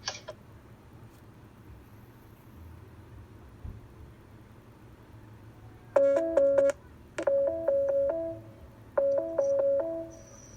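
Three bursts of touch-tone dialing beeps, each a quick run of tones, sounding clearly over a faint background hum.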